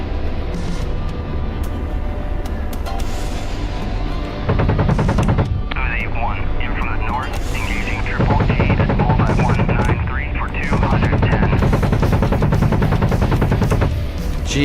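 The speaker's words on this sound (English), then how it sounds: "These bullets are just whizzing right past him." Video game gunfire rattles in sustained machine-gun bursts with bullets whizzing past, loud and continuous throughout, while a voice talks over it.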